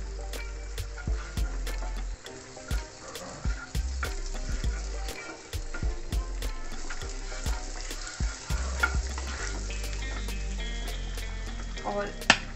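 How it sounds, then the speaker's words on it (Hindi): Butter melting and sizzling in a pan, a steady soft frying hiss with scattered sharp clicks and pops from the pan, close and continuous with no talking. "सबसे पहले हम एक पैन में 1 टेबलस्पून के करीब बटर डाल देंगे। बटर अच्छे से मेल्ट कर लें।"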